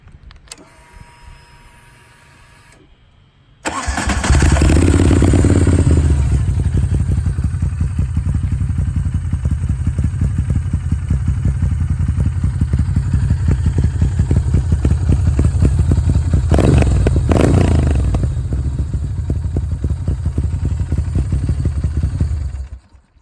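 A 2013 Moto Guzzi V7 Racer with Agostini slip-on exhausts cranks and catches, then runs at a loud, throbbing idle with a couple of quick revs, close by.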